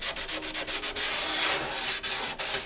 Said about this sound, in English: as I sand through this, I can see this looks like this is carbon fiber too